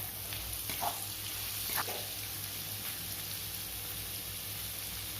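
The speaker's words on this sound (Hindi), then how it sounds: "प्याज को हल्का ब्राउन होने तक भून लूँगी।" Finely chopped onions fry in a pan with turmeric, giving a soft, steady sizzle punctuated by a few light stirring scrapes, heard alone without talk.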